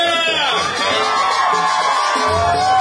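Wedding guests on a dance floor let out a loud crowd shout with cheers and whoops, capped by a woman's high, drawn-out yell that holds for about two seconds over the noisy party.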